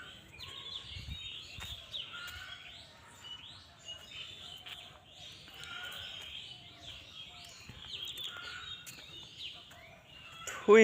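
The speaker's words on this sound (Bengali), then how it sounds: "আর ওইদিকে মোরগ ডাকতেছে" Birds chirp and twitter in a quiet village garden in Bhola, Bangladesh, with many small calls overlapping steadily at moderate distance and a brief louder burst at the end.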